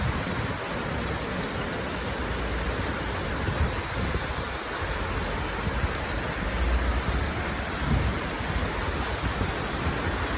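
Steady rain falling in Riga, Latvia, a continuous dense hiss with low rumbling patter throughout, fairly loud and even, with no voices.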